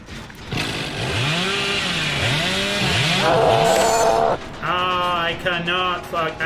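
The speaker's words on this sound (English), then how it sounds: "I hate this killer's chainsaw so much" A killer's chainsaw in a video game revs loudly and steadily, its pitch sweeping up and down in repeated surges before settling into a rough, buzzing idle.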